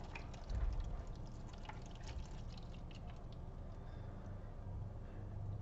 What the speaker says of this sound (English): you're just going to pour this into your tray